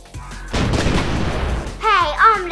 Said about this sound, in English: Let's fire the cannon!